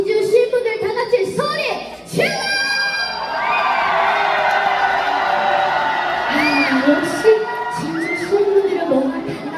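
A large outdoor audience at a trot music festival in Jinju cheers and screams in a sustained loud roar, with whoops and shrill shouts rising above it and a voice speaking near the start.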